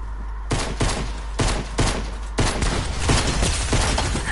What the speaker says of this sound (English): How did I miss that shotgun shot?